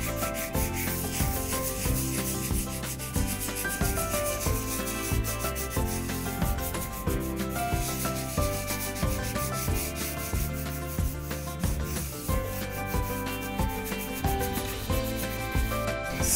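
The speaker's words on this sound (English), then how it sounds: "We only need to sand the back just to get it even, and then it will be ready for finishing" Someone sands the back of a handmade concrete tray with a continuous, rhythmic rasping rub that runs steadily and close up, with no talking.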